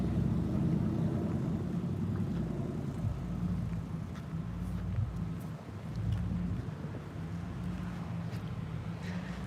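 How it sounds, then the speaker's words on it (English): A loud truck engine rumbles steadily and close by, its low drone continuous throughout with wind buffeting the microphone and traffic noise mixed in. "It's the engine sound right now. It's a loud truck right now, you know."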